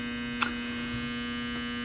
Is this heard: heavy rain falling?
no